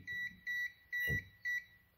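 Four electronic beeps from a multimeter's non-contact voltage tester in a steady rhythm, each a clear high tone lasting about a quarter second, with a short low thump between two of them.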